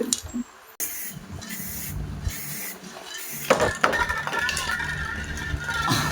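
Spray paint hissing from a can in short bursts, with gaps and clicks between, close by, while a person talks in the background.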